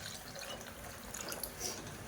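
Water is poured into a pan of vatha kuzhambu, a tamarind-based Tamil curry, as a soft, steady splashing wash that continues alone throughout.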